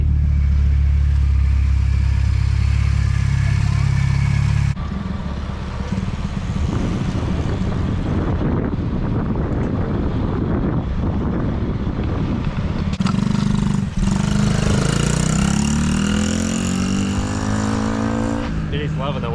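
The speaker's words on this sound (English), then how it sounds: "it sounds so good. That turbo wants to spool up so badly." A fully built Mazdaspeed6 with a huge turbo rumbles loudly at close range, its engine note rising and falling through revs, while voices talk over it.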